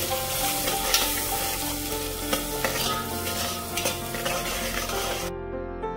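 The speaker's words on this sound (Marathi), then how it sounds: "यामध्ये आपल्याला हे वाटण घालून घ्यायचं आणि छान असं हे परतून घ्यायचं आधी" Ground masala paste with Kashmiri red chilli sizzles and is stirred in a pan for a Malvani chicken curry, loud close frying with scraping spoon strokes, then cutting off abruptly near the end.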